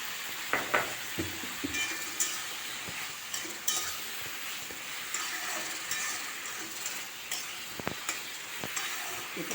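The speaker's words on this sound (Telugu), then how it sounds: "ఇక వేగుతున్నది." Sweet potato pieces fry gently in a pan with salt and turmeric, making a soft, steady sizzle broken by scattered stirring scrapes and light clinks, fairly quiet and close.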